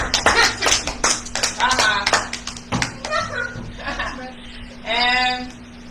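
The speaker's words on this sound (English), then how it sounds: "Everybody give Kamar a round of applause." Children clap a short round of applause for Kamar in a kids' lesson setting, with sharp irregular claps near the start that thin out, then children talk and chuckle.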